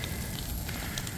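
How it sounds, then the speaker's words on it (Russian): Large outdoor bonfire of damp debris on a rural plot, a dense continuous crackle and roar close by with scattered pops, no voices. "Вот это настоящий костер."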